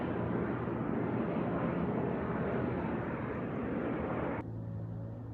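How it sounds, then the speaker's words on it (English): A firefighting airplane passes over a wildland fire, a loud, steady broadband engine roar that fills the scene and then drops off sharply near the end, leaving a lower hum. "planes flying all over the place"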